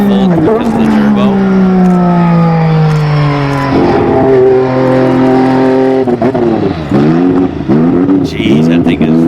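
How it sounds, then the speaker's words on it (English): A turbocharged McLaren Honda MP4/4 Formula 1 engine revs hard and loud, close up, its raw tone sweeping up and down through several sharp throttle blips before dropping back toward a choppy idle. "It's really raw and loud, even for a turbocharged motor."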